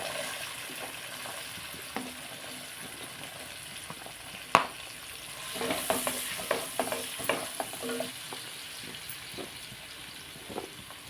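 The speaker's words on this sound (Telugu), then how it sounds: "ఇందులోకి పచ్చిమిర్చి ఉల్లిపాయలు వేసేసుకున్నాం" Green chillies and onions frying in oil in a pan for a mango, drumstick and egg curry, with steady sizzling and repeated scraping stirs from a spoon, close and moderately loud, one sharp clank partway through.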